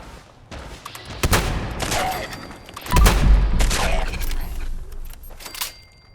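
Shotgun blasts in the post-apocalyptic shooter Fallout 76, several heavy booms spread unevenly over the clip amid game clutter, with a big sustained roar near the middle.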